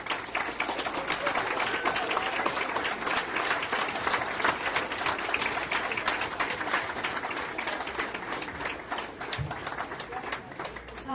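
An audience at a Kansas health care meeting applauds Commission on Aging volunteers, steady dense clapping from many people filling the room throughout, loud and sustained.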